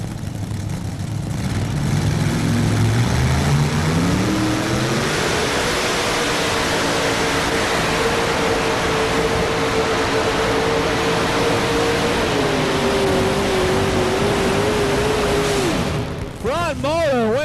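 A Banner Brothers three-engine modified pulling tractor on a Banner frame at a farm machinery show pull, engines roaring loud and steady as the pitch climbs and then holds high, with a sour front motor and a sputtering cutoff at the end.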